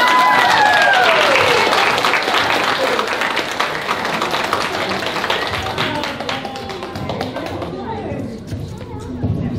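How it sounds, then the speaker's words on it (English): Audience applause at a 2022 performing-arts follies show, a loud sustained wash of clapping that fades slightly toward the end, with a voice speaking over it. "let's give a big round of applause"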